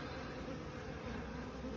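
Honeybees swarm inside an old comb-filled hive being removed, making a dense, steady buzz that stays close and constant throughout with no voices.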